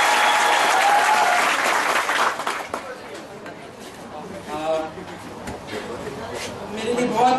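Audience at a coaching institute event applauding, loud sustained clapping that tapers off midway, then scattered claps and talk before swelling again.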